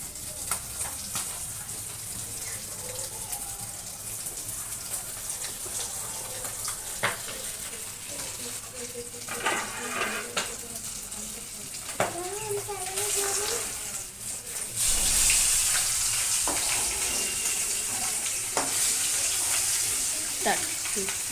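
Fish frying in hot oil gives a steady close sizzle with occasional stirring and utensil clinks, under a person talking.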